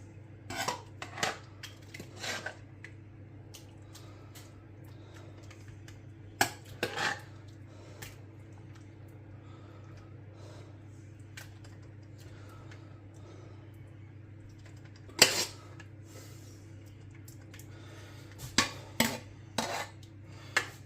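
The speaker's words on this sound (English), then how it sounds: "I'm using a ladle to fill this in." A ladle scoops hot chicken, leek and white wine pie filling, giving sparse metallic clinks and taps against the pot and dish over a low, steady background hum.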